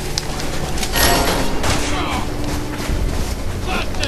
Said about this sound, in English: Body explosion!